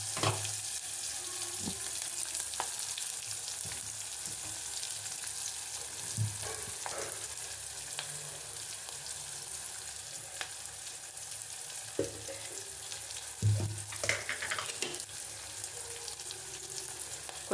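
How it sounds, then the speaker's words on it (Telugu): Gongura chutney paste fries in oil, a steady close sizzle with occasional stirring scrapes and spoon knocks, no voices. "బాగా వేగాక ఆయిల్ కొంచెం పైకి రావాలి"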